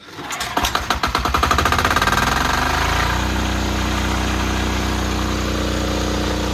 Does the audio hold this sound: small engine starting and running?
yes